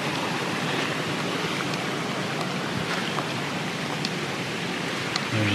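A substantial creek runs around the bottom of a sheer cliff, giving a steady, dense rushing wash of flowing water that stays even throughout with no talk.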